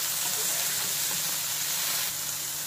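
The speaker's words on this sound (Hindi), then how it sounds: "लेकिन थोड़ा सा हम इसको फ्राई करेंगे" Cauliflower pieces frying in oil in a kadai give a steady, even sizzle and hiss, fairly close and continuous, with no talk over it.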